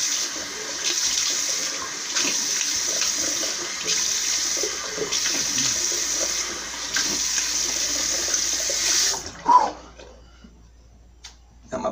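Tap water runs steadily with a soft hiss for about nine seconds while an alum block is rinsed off after a shave, then cuts off, leaving a few faint splashes and drips.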